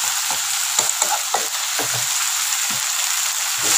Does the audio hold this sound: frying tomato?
yes